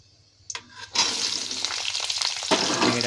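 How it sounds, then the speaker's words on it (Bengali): Sliced ridge gourd drops into hot oil already crackling with nigella seeds and a dried red chilli, bursting into a loud, steady sizzle after a brief clatter. "এবার এর মধ্যে আমরা দিয়ে দেবো ঝিঙেটাকে।"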